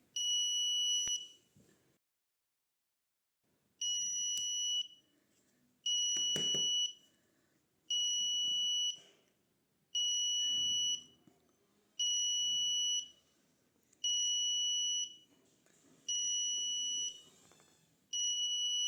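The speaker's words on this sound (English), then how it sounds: "The buzzer is now on because we set our safe limit in the code." An Arduino temperature alarm buzzer beeping in regular repeated bursts, each about a second long with short gaps, loud and high-pitched, with faint background noise.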